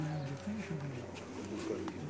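Pigeons coo at night in soft, repeated rounded calls, fairly close and quiet against a faint background hum.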